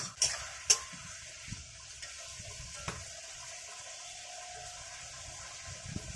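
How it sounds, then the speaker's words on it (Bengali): Food sizzles softly in a pan during home cooking of pond fish with green banana and potato, with a few sharp clinks and scrapes of a spoon stirring. "এবার ভালো করে নেড়ে দেবো"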